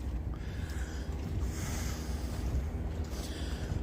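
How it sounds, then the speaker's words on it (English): Strong wind at New Smyrna Beach buffets the microphone at sunrise. A continuous, heavy low rumble dominates the whole stretch, loud and unbroken, with a faint hiss riding above it. "The wind is very strong."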